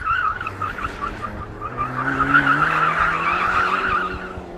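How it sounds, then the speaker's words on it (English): Car tyres squeal and skid in a sustained wheelspin as a 333-horsepower car warms its tyres before a drag race, with a steady engine drone rising in pitch underneath, loud and close throughout. "Let me just go warm up my tyres."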